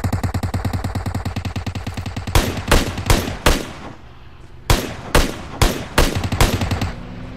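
Automatic gunfire in PUBG Mobile, a rapid loud burst of shots followed by a pause and then several separate heavy single shots in an uneven rhythm, close and with no talk.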